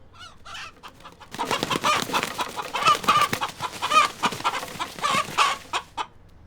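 A pet chicken raised from a day-old chick clucks close and loud after a quiet start, with a run of repeated rhythmic clucks and squawks and no talking.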